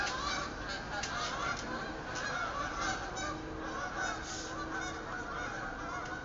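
Geese honking at summer's end as they leave, many overlapping nasal honks repeating in an uneven chorus, fairly close and steady throughout, with no talk.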